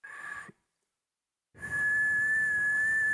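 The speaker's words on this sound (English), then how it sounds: "I was whistling directly into the mic right there." A person whistles straight into a microphone, giving a close, clear, steady tone. A short burst is followed by a second of silence, then a longer sustained whistle holds to the end.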